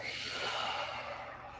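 A quiet, breathy exhale, a soft continuous rush of air heard up close with no talking.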